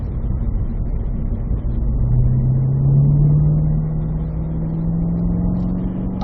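A car engine pulls hard in fourth gear down a track straight, a loud, steady drone whose pitch climbs slowly and evenly for over six seconds with no talking.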